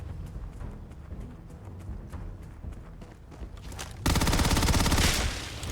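Dense, continuous gunfire in a war machine video game: rapid automatic bursts throughout, swelling into a louder, heavier barrage near the end, with no voices over it.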